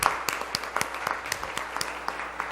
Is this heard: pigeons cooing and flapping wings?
no